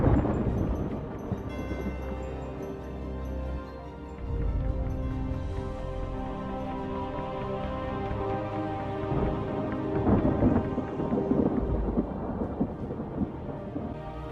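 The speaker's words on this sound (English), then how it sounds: "This is the mother of all storms. This is the storm of the century." Thunder rolls and rumbles through a heavy storm with steady rain hissing underneath, loud deep peaks swelling and fading over a long stretch with no voices.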